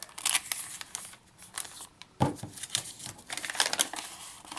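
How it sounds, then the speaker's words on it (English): Paper bag crinkling and rustling as it is handled and placed into a junk journal, with close, irregular bursts of crumpling and a sharper crackle midway. "I'm going to add my paper bag."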